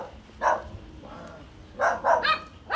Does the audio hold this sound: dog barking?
yes